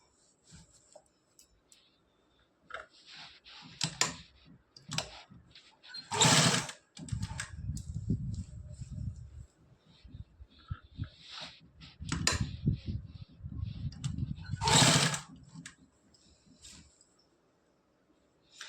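A sewing machine stitches pleats into a salwar in short runs: two loud, rapid whirring bursts of stitching stand out, separated by quieter clicks and fabric handling nearby.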